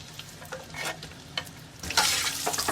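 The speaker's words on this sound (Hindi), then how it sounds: "तो मैं इसमें शामिल कर दूंगी प्याज।" Sliced onion dropped into whole spices frying in a pan, with a sizzle that swells louder toward the end and brief stirring scrapes, no talk.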